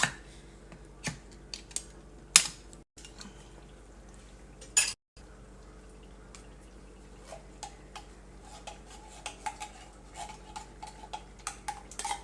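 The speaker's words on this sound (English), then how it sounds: "I'm just going to keep stirring this" Broccoli casserole sauce with cream of mushroom being stirred in a pot over medium heat, quiet scattered taps and scrapes of a spoon against the pan, close and sparse, with no talk.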